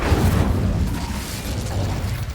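Incendio fire spell cast in Hogwarts Legacy, a loud whooshing burst with a deep rumbling roar that holds steady for a couple of seconds.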